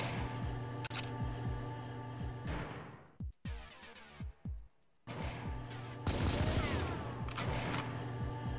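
Magnum pistol shots in the Nintendo 64 shooter GoldenEye during netplay, sharp loud bangs firing in bursts and separate cracks over a busy game soundtrack.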